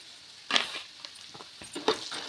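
Roasted gram and peanuts fry for a tempering in a pan. A faint, soft sizzle runs under a few sharp scrapes and clinks of stirring, with no talk.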